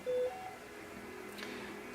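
Grandstream GXP2135 desk phone giving a short, faint electronic tone when its parking spot key is pressed, followed by quiet line hiss.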